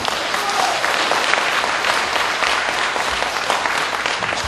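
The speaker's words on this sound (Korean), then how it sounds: "맞으면 큰 박수 주시기 바랍니다" A large lecture audience in Korea bursts into big, continuous applause, a thick roaring crowd of clapping hands that stays loud and even from start to finish.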